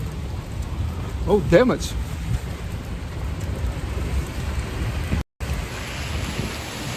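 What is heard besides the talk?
heavy rain with thunder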